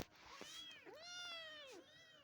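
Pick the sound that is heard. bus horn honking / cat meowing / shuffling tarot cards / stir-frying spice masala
cat meowing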